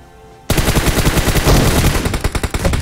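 Rapid bursts of automatic gunfire in a battle royale video game erupt suddenly after a quiet moment, loud and close, continuing in fast rattling volleys with no talk.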